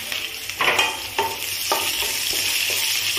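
Taro greens with prawns and chopped green chilies sizzle in a pan while a spoon scrapes and stirs in several short strokes over a steady frying hiss.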